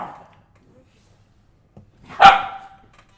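A dog barks once or twice from a short distance, a sharp burst near the end after mostly quiet, with a brief faint sound at the start.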